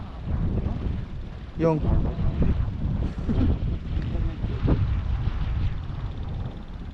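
Steady wind blows across the microphone at a dark, early-morning fishing spot near the water, a constant rushing roar that continues under brief talk.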